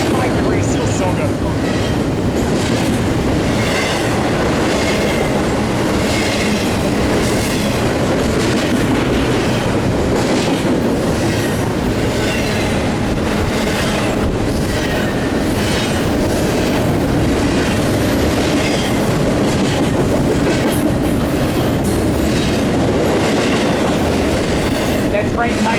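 A train rolls past a railfanning spot at Fullerton, California, a steady loud rumble with rhythmic clickety-clack of wheels over rail joints lasting throughout, with faint voices in the background.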